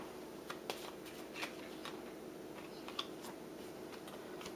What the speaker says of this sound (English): Gotta shuffle.